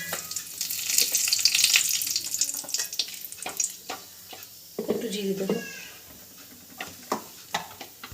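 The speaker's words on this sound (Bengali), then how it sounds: "গরম হয়ে গেছে গোটা গরম মশলাটা ফোড়নে দিয়ে দেবো" Whole garam masala of bay leaf, cardamom and cinnamon hits hot oil with a loud burst of sizzling that crackles for a couple of seconds, then settles into quieter stirring and clattering as a voice talks over it.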